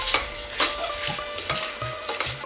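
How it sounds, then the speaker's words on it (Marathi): Rice being stir-fried with spices in a pan for masale bhat, with a light sizzle and repeated scraping and stirring strokes of a spoon against the pan, close and without voices. "आपण व्यवस्थित तो परतवून घेणार आहोत"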